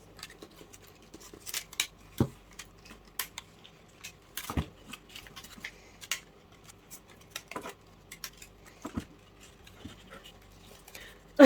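Sharp, sparse snips of scissors cutting orchid plant material, close and dry, irregular single cuts spread over quiet gaps.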